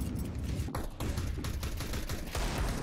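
Counter-Strike 2 gunfire in a competitive match between FaZe and Spirit: a dense, continuous stream of rapid shots and rattling bursts, loud and busy throughout.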